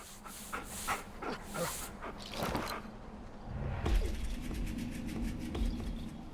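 A tamed dog in the video game Far Cry Primal whimpers softly in short, faint whines amid ambient game sounds and scattered bird coos.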